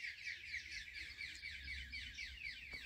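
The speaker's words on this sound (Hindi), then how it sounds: "चिड़ियों की आवाज़ आपको आ रही होगी। देखो कितने तरह के पंछी और चिड़िया बोल रही हैं" Many kinds of wild birds chirp and call among trees in an open grassy area, a dense, steady chorus of high overlapping tweets with no voices.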